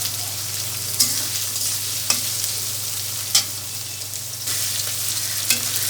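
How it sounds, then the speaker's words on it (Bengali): Onions and green chillies frying lightly in oil for a desi chicken curry, a steady close sizzle over a low hum, broken by several sharp scrapes of a spatula against the pan, no voices. "এরপর আমি পেঁয়াজ আর কাঁচা লঙ্কাটা তেলের মধ্যে দিয়ে দেবো, আর পেঁয়াজ আর কাঁচা লঙ্কাটা আমি হালকা একটু ভাজতে দেবো।"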